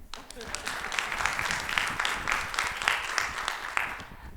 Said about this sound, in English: If you do, you can clap.